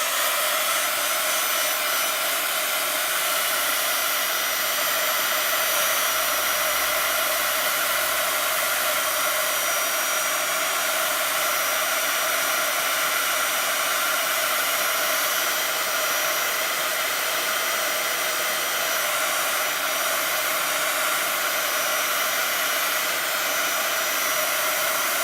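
A heat tool blows steadily as it warms a Stampin' Up! card-making craft piece, giving a loud, even, unbroken whoosh for the whole stretch with no voices.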